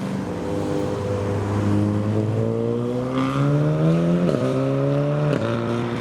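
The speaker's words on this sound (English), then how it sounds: "there is the Pilgrim Cobra that we saw earlier, coming around the corner with the Morgan behind and a Golf R making some turbo sounds" A Pilgrim Cobra and a Morgan come around a corner with a Golf R behind, engines rising and shifting through gears as they pass close and loud, the pitch climbing, dropping at each shift and climbing again.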